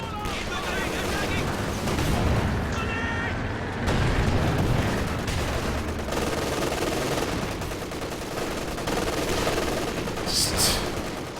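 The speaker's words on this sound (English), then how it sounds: "MD-34's pinning these squads as they approach." MG-34 machine guns rattle in sustained bursts during a competitive strategy match, with booms of artillery and explosions thundering throughout, while a commentator's voice runs over the dense, continuous battle noise.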